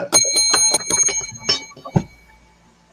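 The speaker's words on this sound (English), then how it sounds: "Bell. Ding, ding, ding, ding." A bicycle-style bell dings several times in quick succession, bright and close, then rings out briefly as a last ding fades.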